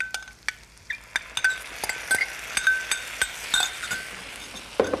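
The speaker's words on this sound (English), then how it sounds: "Give that a good stir, just to amalgamate everything together." Lentils being stirred with flavouring in a pot for a vegetarian moussaka, a spoon clinking repeatedly against the sides in a quick uneven rhythm, close and fairly loud with no talking.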